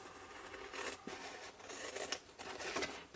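Paper being cut with scissors while making a fold-flat craft box, giving a few soft, close snips and slides of the blades at an uneven pace, with no talking.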